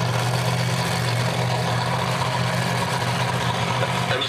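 Monster truck engine idling steadily at a demonstration show during a remote ignition interrupter check, a loud continuous low rumble with no speech.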